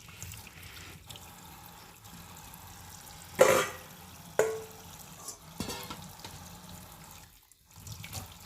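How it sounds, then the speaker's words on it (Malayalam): Pumpkin leaves are washed under a running tap, a steady hiss of water with a few splashy bursts as the leaves are turned and rinsed, close with no talk. "രണ്ട് ഭാഗവും നോക്കി കഴുകി വൃത്തിയാക്കി"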